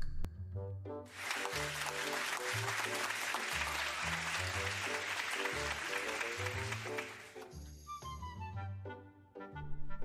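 A burst of loud applause for a competition winner rises over steady background music, lasting several seconds before cutting away as the music continues alone.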